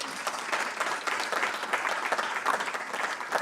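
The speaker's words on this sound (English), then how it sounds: "If you can give me a round of applause for that" Audience applause fills the hall at a professorial inauguration for a Faculty of Science professor, continuous and fairly close clapping from many hands at an even level.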